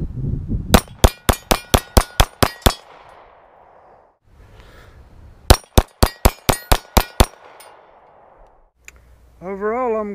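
Two rapid strings of gunshots ring sharply off an AR-500 steel shooting target, each burst of about eight loud metallic clangs with a pause between them, followed by a brief voice.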